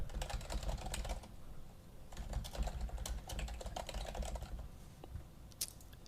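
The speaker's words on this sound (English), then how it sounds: "all I have to do is enter in email addresses of people I want to share the folder with" Email addresses are typed on a computer keyboard in a steady, close patter of soft key clicks for about six seconds, faint overall, with brief gaps and one sharper tap near the end.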